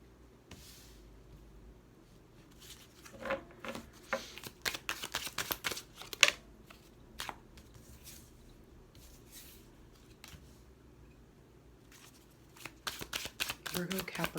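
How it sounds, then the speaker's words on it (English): Tarot cards are shuffled and flipped in bursts of crisp riffling and slapping, close and fairly loud, with quieter pauses and a voice speaking in between. "we got all kinds of cards flipping here"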